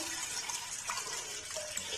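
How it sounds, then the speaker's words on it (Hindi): About a litre of water pours into a pot set on a lit stove, a steady splashing gush that fills the whole brief moment with no talking. "1 लीटर जो है पानी इसमें शामिल करेंगे।"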